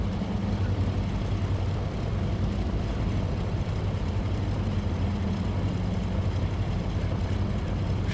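Twin radial propeller engines of a Douglas C-47 Dakota in the X-Plane 11 flight simulator drone steadily with a low, continuous hum, loud and unbroken throughout as the throttle eases back slightly.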